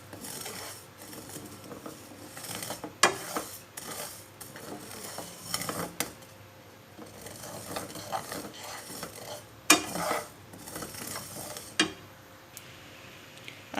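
Garlic roasting in a pan for garlic pickle (lahsun ka achar), a soft crackle with repeated clinks and scrapes of a spoon stirring against the pan, sharper knocks now and then, close and moderately loud with no talk.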